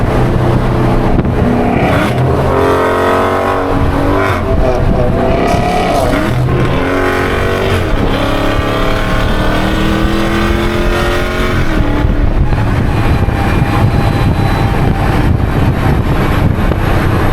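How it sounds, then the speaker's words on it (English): A Dodge Hellcat downshifts in a tunnel, its engine loud and close, with revs sweeping up and down and the roar echoing off the walls, held at a sustained heavy level with no talking. "Downshift in the tunnel, light in. I can't full throttle it."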